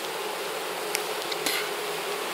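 A swarm of honey bees gives off a steady, faint buzzing drone that holds evenly throughout, with a few brief sharper ticks and rustles near the start of the hive activity.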